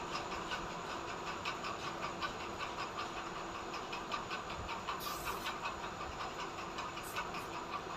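A sewing machine runs steadily, stitching a seam on fabric for a small child's kaftan, with a continuous mechanical whir and faint rhythmic ticking throughout, close and unbroken.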